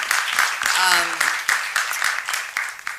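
An audience at the I Am Woman Awards 2018 ceremony applauds with steady, dense clapping that fills the room, while a voice carries over the noise.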